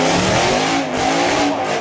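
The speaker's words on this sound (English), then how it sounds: "the first of these new BT62 road cars, a supercar with an Aussie V8" Brabham BT62 supercar with an Australian V8 engine roaring loudly at close range, engine note holding high with brief dips as it passes.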